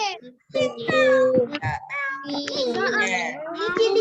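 A voice imitates a cat, drawing out high, wavering meows between bits of Indonesian speech in a classroom, close and clear.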